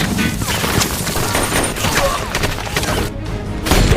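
Sniper gunfire exchange in a war film, dense continuous volleys of shots and booms that stay loud and steady throughout, mixed with film soundtrack and effects.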